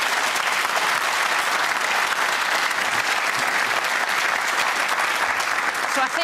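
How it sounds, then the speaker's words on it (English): A television studio audience at a political debate panel claps steadily and densely in a sustained, even round of applause with no pauses. "the size of that round of applause would indicate quite how much interest is in this subject"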